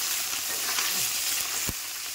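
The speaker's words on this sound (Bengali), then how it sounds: "মাছটা আমার প্রতিটা ভাজা হয়ে গেছে, এবার আমি নেড়ে দেবো।" Morola fish frying in a pan hiss with a loud, constant sizzle up close, broken by a soft scrape and one sharp knock as the pieces are turned.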